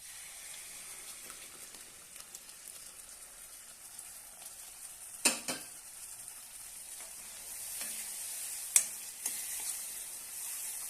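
Soft, steady sizzling of lentils frying in tempering in a pan, with a couple of sharper clinks or scrapes partway through; quiet and continuous, no voices.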